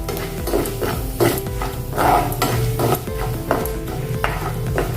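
A spoon stirs urad dal, chana dal and asafoetida in a hot pan. Repeated scraping strokes ride over a soft, steady sizzle, close and clear, with no talking.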